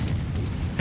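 Warship broadside striking the player's ship in World of Warships, a short heavy low boom and rumble, loud, with no talk.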